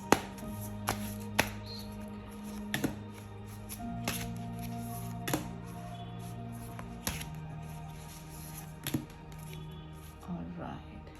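Tarot cards being shuffled and handled, giving sharp papery snaps and riffles at intervals over a low steady hum, close and fairly quiet.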